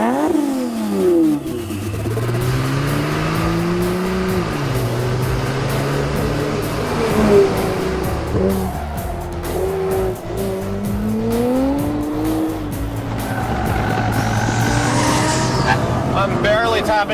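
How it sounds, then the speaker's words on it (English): A 1400 hp AMS Performance Alpha 12 Nissan GT-R drifts on a track, its engine revving and swooping up and down in pitch with tire squeal, loud and continuous, while someone talks over it. "I'm barely tapping into the throttle and getting drifts."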